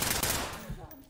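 Gunfire in a video game, a short dense burst of shots packed into about a second, loud and close.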